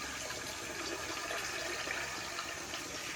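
Beer wort is poured back into a brew kettle for an all-grain, one-pot brew with a false bottom, making a steady, full liquid rush that holds at an even level throughout.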